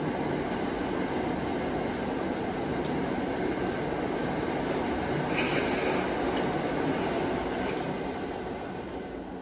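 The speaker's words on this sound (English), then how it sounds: "after the train passes" A train rumbles past outside a classroom, a steady broadband roar with faint rail clatter and squeal holding loud for the whole stretch before easing slightly at the end, no talk over it.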